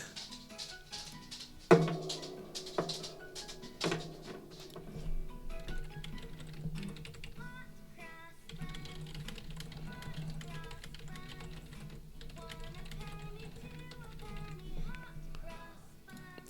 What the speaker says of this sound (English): I was typing a book, man.